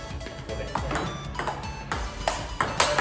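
Table tennis ball struck repeatedly with an Andro Synteliac racket during a practice rally, a series of crisp, close pings at irregular intervals with faint background noise.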